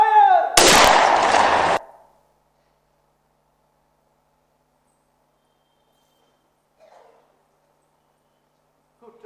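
A single loud gunshot-like blast goes off on stage during a theatre play at a national theatre festival. It is sharp and lasts about a second, then near silence follows with only faint stray sounds.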